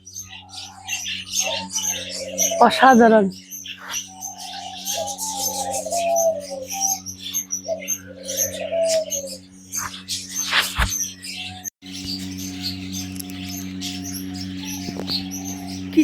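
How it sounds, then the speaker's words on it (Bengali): At a bird park and eco village in Moulvibazar, many birds chirp busily while doves, including diamond doves, coo nearby; someone talks over the chorus now and then. "কিচির মিচির করতেছে পাখিগুলো"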